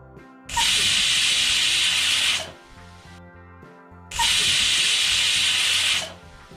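A pressure cooker hisses in two sustained bursts of steam release, each lasting about two seconds with a short gap between, after cooking rice porridge on full heat. The hiss is loud and close.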